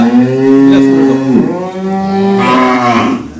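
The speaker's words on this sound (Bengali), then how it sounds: "আপনাদের সামনে আমি একটা গরু দেখাচ্ছি" A large dairy cow lets out two long, loud, close moos in cold winter conditions, each a drawn-out low bellow with a brief pause between them.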